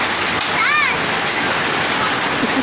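Heavy rain mixed with hail pounding down in a loud, dense, continuous roar of splattering water and ice, with a brief whistle-like sound in the middle.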